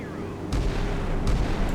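Naval weapons fire in the naval combat game Sea Power during a foul-weather clash, heavy booming blasts over a constant loud roar of wind and sea, with two strong thuds about a second apart.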